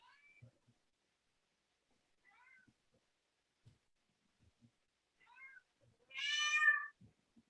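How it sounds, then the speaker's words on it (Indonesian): A cat meows several times, soft and intermittent at first, then one louder, drawn-out meow near the end, with quiet background otherwise. "Suara kucing."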